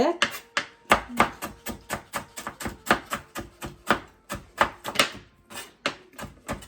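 Vegetables for noodles are cut with a knife on a board in a quick, steady run of sharp, close chops, about three per second, with occasional faint voice in the background.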